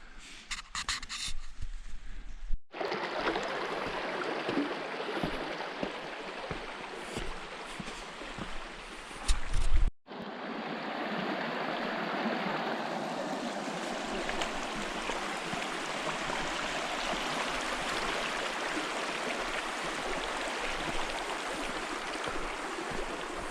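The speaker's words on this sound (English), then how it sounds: "So this smaller gorge is, well, the stream runs through and then into the main" A stream rushes steadily through a small side gorge at Carnarvon Gorge, a close, continuous watery hiss that starts after a few rougher, broken bursts.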